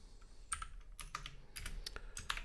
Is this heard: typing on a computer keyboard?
yes